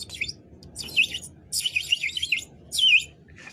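A hoopoe chirps in short bright bursts, several separate calls spaced across a few seconds, close and clear over a quiet background.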